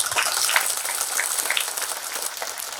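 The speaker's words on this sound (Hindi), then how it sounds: "जोर से ताली बजाया करो" Loud, dense clapping from a crowd at a satsang gathering in Garhha Rampur, Madhepura, a steady wash of many hands running the whole time without talk.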